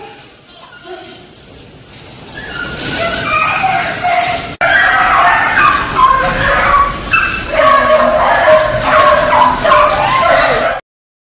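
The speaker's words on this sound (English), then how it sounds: "I'm going to this dog." Beagles at a UK dog rescue whimper, yip and bark, the cries growing louder and busier after a sudden cut, with a person's voice mixed in among the animal sounds.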